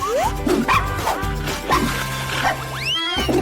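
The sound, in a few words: dog barking on a TV show about dogs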